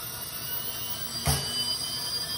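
A new 1987 Moore G-18 jig grinder runs its 40,000 RPM spindle with a steady, high-pitched whine and a constant hiss. A short bump of added noise comes midway.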